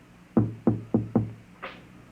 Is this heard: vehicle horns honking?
no